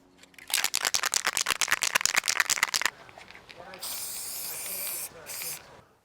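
A spray paint can: rapid bursts of rattling and short hissing sprays, followed by a longer continuous hiss of aerosol spraying, close and fairly quiet.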